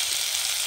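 Fried potatoes going into hot masala for a rui fish curry with potatoes, a brief bright sizzle of frying oil heard up close and alone.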